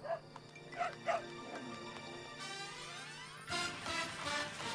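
A dog yips and whimpers in short bursts, then gives a few barks near at hand, over a constant background hum.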